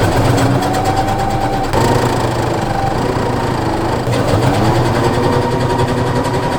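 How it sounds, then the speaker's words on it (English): A sewing machine stitches pockets onto sweatpants made from an upcycled bedsheet, running as a steady, close, loud whir that pauses briefly twice. "So I'll catch you at the machine. Then I'll sew down this way."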